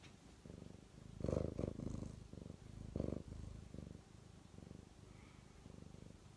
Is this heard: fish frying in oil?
no